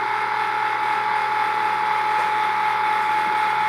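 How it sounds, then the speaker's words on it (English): A Cricut Maker cutting machine powers on with a steady, close mechanical whirring and ratcheting hum that runs evenly throughout, with no voices. "now I'm turning my Cricut on"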